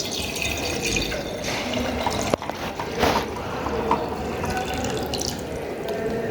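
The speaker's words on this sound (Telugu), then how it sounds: "ఇది తీసుకున్న బీకర్ మొత్తాన్ని కంప్లీట్గా వాటర్తో ఫిల్ చేయాలి." Water is poured into a beaker, filling it completely for a convex lens focal length experiment, a steady continuous splashing stream running alone throughout at moderate loudness.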